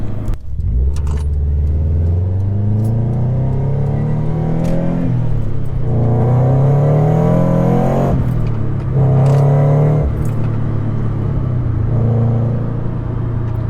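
A Cosworth-supercharged Scion FR-S engine revs up and down repeatedly, rising supercharger whine and rumble close by, with occasional light clicks and jangles over the steady drone.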